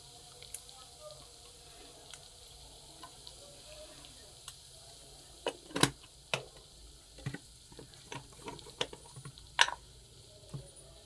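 Cumin powder sizzles in a frying pan during home cooking, a faint hiss broken by scattered sharp ticks and clinks of utensils against the pan. Background noise stays low.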